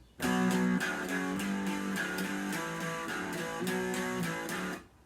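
Electric guitar plays the first phrase of the intro, a short run of ringing, sustained notes that stays close and steady, then stops.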